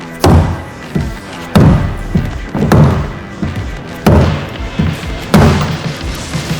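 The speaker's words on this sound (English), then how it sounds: "we'll be hitting the locking ring clockwise" Repeated hammer blows strike the locking ring on an S&B replacement fuel tank for a Ram Cummins pickup, with about seven dull, heavy thuds at uneven intervals, close by and with no talking.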